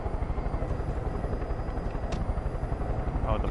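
Engine drone of an aircraft flying overhead in the video game Far Cry 5, a continuous low throbbing hum with a faint high whine, steady and fairly close, with a player talking faintly in the background.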